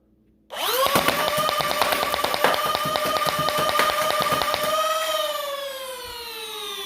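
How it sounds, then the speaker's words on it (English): A Radio Silence Cagefighter foam blaster fires full auto, a sharp motor whine spinning up under a fast, steady stream of clacking shots that runs for several seconds before the whine winds down alone. "So let's throw it in the blaster here and let her rip, I guess."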